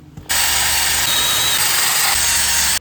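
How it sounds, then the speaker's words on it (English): A wire brush, likely power-driven, scrubs a weld on a camper bike rack, a loud continuous grinding whir that starts abruptly and runs steadily for about two and a half seconds before cutting off. "I'm actually gonna go get a wire brush and clean up this weld right here"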